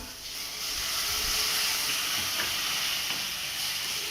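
Tomatoes and masala with a little curd sauté in a pan for biryani, giving a steady, fairly loud broadband sizzle and hiss that continues without pause and without any talk.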